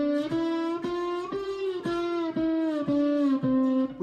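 Slide guitar notes in standard tuning, played without right-hand muting, ring into one another as a run of sustained, slightly gliding tones, each new pick attack sounding over the last note's tail.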